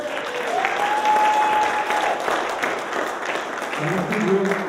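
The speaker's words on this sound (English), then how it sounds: "Can we give him another round of applause?" Crowd at a Kwanzaa celebration gives a sustained round of applause, dense clapping filling the room, with a brief whistle-like tone and a voice starting to speak near the end.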